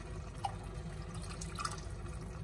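Water poured into an emptied tomato can while cooking ratatouille, a soft steady trickle with a couple of faint drips, close and quiet, no talking.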